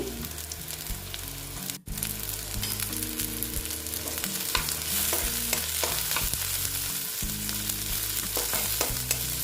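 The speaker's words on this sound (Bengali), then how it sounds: "দেখো পেঁয়াজটা একটু লাল লাল করে ভেজে নিচ্ছি" Sliced onions frying in oil until reddish for a tilapia mustard curry, a dense, steady sizzle with repeated scraping and clinking of a stirring spatula throughout, close and fairly loud, no talking.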